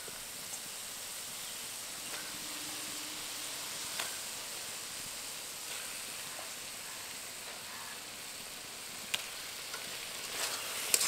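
Marinated chicken pieces frying in masala for a Bengali-style lonka pora chicken, giving a steady, soft hiss and sizzle with a few faint clicks. No one speaks.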